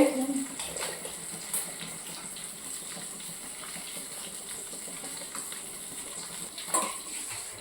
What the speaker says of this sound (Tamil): பாருங்க, தேங்காய் பால் வடிகட்டிட்டேன். இப்போ ஊற்றுறேன்.